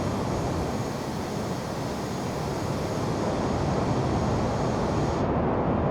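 Airliner jet engine in Microsoft Flight Simulator 2020 on a Frankfurt to Berlin flight, a loud continuous roar with a steady hum that holds unchanged throughout, with no talk over it.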